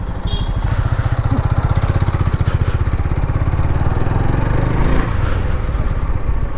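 A motorcycle engine runs steadily as it rolls into a bike wash at Dinajpur TTC, with a loud, close, even throbbing putter and no talking.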